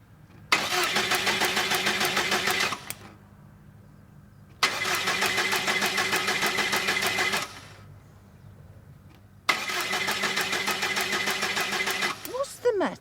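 Diesel car engine cranking without catching, three long churning bursts of the starter separated by pauses, loud and close with no talking.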